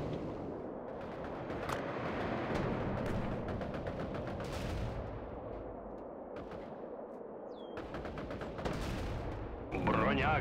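Cannon blasts and gunfire from a World War II real-time strategy video game ring out in rapid, repeated bursts, dense and loud, with booming Soviet guns layered over a rumbling battle.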